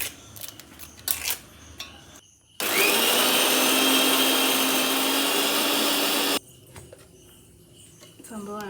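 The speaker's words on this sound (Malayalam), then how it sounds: "ഇങ്ങനെ മുറിച്ചെടുത്തിട്ട് മിക്സിയിലിട്ട് അടിച്ച് കഴിഞ്ഞാൽ നമുക്ക് പൂക്കളത്തിലിടാനുള്ള പച്ച കളറ് കിട്ടും" A kitchen mixer grinder grinds chopped mango leaves into a green paste, its loud steady whir starting abruptly and running for about four seconds before cutting off, with quieter handling sounds before and after.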